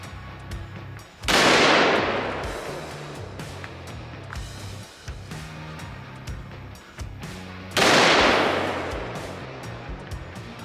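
Two heavy gunshots ring out seconds apart, each a sharp loud blast with a long rolling echo, aimed at a cast iron Peerless 2300 transmission beside a creek outdoors, with quieter handling noise between shots.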